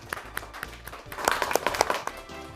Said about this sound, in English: Let's have a nice round of applause for that wonderful team from Glenarden Woods.